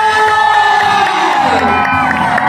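A crowd at a political rally on a Parkland street in Barangay 177 cheers, shouts and applauds loudly and continuously. Children's voices and whoops are mixed into the dense, sustained roar.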